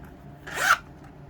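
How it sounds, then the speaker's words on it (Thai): Zipper on the middle compartment of a Gucci Soho wallet, one quick close zip lasting under half a second against a quiet background. "ช่องตรงกลางก็จะเป็นช่องซิปแบบนี้นะคะ"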